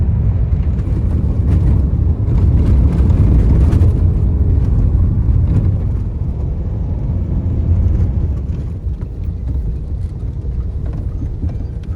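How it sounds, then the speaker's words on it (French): A motorcycle taxi rumbles along a rough, partly paved road in Madagascar, its low engine drone steady and close under heavy wind buffeting, easing slightly toward the end. "C'est notre taxi-moto."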